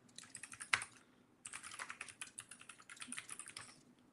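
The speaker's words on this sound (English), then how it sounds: "I'm just typing env in my terminal" Quick keystrokes on a computer keyboard, typed into a terminal: a short run of taps, a brief pause, then a longer burst of clicks, all faint and close with no talking.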